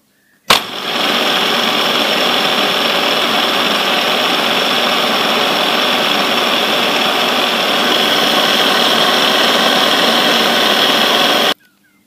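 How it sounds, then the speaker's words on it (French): A milling cutter with a 90-degree tool chamfers the corners of a metal part for a Promécam RG 25 folding press gearbox, giving a loud, steady machine whine that starts abruptly, runs unbroken for about eleven seconds, then stops. "Montage d'une fraise à 90 et je fais un chanfrein sur les deux angles"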